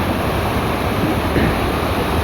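Water rushes fast through opened pond sluice gates in a loud, continuous, broadband roar, steady and close with no voices over it.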